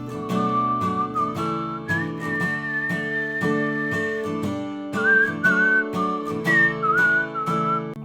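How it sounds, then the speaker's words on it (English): Melodic whistling carries the lead line of the song, a bright, sustained tune gliding over a full band backing of guitar and bass, steady and prominent throughout. "And then the whistle part, just when that comes on"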